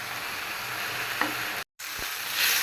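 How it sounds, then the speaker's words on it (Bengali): Shrimp frying in a pan give a steady, close sizzle with a faint clink of stirring and a brief gap in the sound. "এই যে কিছু চিংড়ি মাছ ভাজছি"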